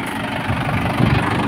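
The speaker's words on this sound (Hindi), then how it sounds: "दिखाते हैं आपको कि कितने RPM तोड़ता है ये ट्रैक्टर इस पिलाऊ पर" A Mahindra 585 Bhoomiputra tractor engine runs loud and close under load while pulling a Moon Star plough, a steady dense rumble with no talk over it.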